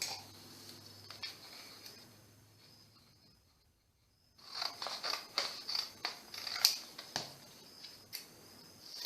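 Scissors snipping leftover paper for a beaded art journal spine built from recycled calendars and planners: a quiet stretch, then a run of close, crisp, irregular cuts and rustles.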